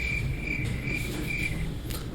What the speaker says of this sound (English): cuddling and listening to crickets